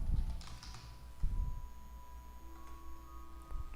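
Typing on a computer keyboard while working in a spreadsheet, a few soft scattered key taps including a final press, quiet with a low steady background hum and no talking.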